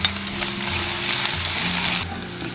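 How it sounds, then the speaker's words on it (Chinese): Chopped scallion, ginger and garlic stir-fried in rendered pork fat, a strong close sizzle with steady spatula scraping and clatter, easing slightly near the end, with no one speaking. "我们下入葱姜蒜炒香"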